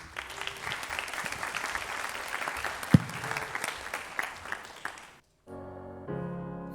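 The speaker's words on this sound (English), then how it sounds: "Give them a round of applause, please." An audience at a school anniversary ceremony applauds steadily for about five seconds, the clapping dense and sustained with a few louder claps, before it cuts off and music starts.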